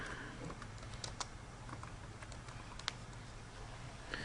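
Class and teacher names typed on a computer keyboard, quiet irregular key clicks over a faint background hum, with no voice.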